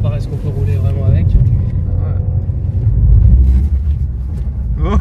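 A go-kart engine rumbles steadily as the kart drives along at moderate speed, a low close drone that swells slightly, with people talking over it.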